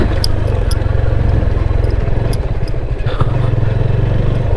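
A Yamaha FZ25 motorcycle rides downhill from hills toward flat ground, its engine droning steadily and loud close by, with a continuous low rumble and some clatter throughout.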